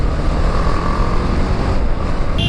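A BMW G 310 GS motorcycle being ridden on a city road in Lucknow gives a steady, continuous engine and road drone with wind noise, loud and unbroken throughout.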